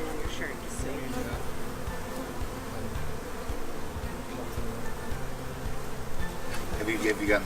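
A dense, continuous buzz of many honey bees swarms around beekeepers working their hives in spring, close and steady throughout.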